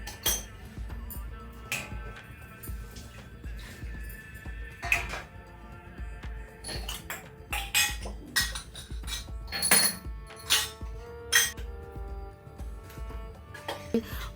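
Metal puja utensils from a home temple clink and clatter while being washed, with irregular knocks, scrapes and rings close by that grow busier and louder toward the end.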